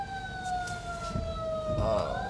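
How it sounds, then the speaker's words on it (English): An ambulance siren wails without a break, two steady tones sustained and slightly sliding in pitch, fairly loud and close, with some low road rumble underneath. "We got an ambulance."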